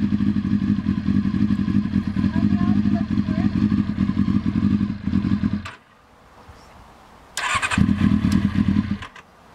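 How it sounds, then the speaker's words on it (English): Motorbike engine cranking and catching on full choke, chugging loudly for several seconds before cutting out, then firing briefly again and dying after a short burst. "I'm trying it with full choke."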